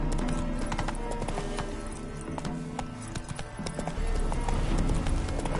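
Horse hooves clip-clop at a steady pace in the video game Witcher 3, with a brief whinny, continuous and close throughout.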